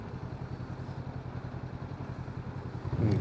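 A Honda NX500 adventure motorcycle idles with a steady low throbbing pulse, then its engine rises as the throttle opens near the end, with no speech.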